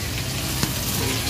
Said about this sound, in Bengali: ওইদিকে ট্যাংরা মাছ দিয়েছি, ট্যাংরা মাছ ভাজা হচ্ছে